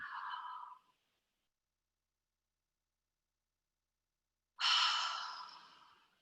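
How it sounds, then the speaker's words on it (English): Two deep breaths drawn in through the mouth in a guided breathing exercise: a short soft breath at the start, a long pause of silence, then a louder, fuller breath that fades away, close and alone. "take a nice deep breath. And go ahead and play around with breathing in through the mouth."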